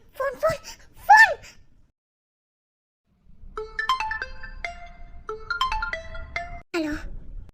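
A phone ringtone plays as a repeating electronic tune of stepped, bright notes for about four seconds, fairly loud and clear, following a few seconds of speech and a brief silence.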